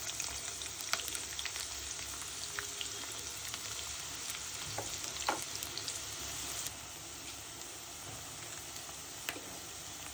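Chopped onions frying in hot oil for Bengali egg and potato curry, a faint, even crackling sizzle running throughout with occasional small pops and light ticks, quiet and nearby.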